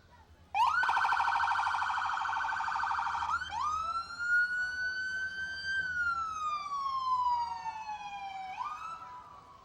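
Windom Ambulance Department ambulance rolling through the Windom, Minnesota Riverfest parade, its siren blaring loud and close, first a rapid yelp and then long rising and falling wails.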